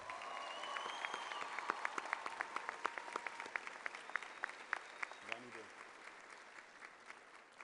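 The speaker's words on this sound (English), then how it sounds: "Graduates, could we honor her one more time with a round of applause?" Graduates at a 2017 Goose Creek high school graduation ceremony clap in a round of applause for an honorary diploma recipient, a distant, faint crowd patter with sharper individual claps and a brief voice near the end.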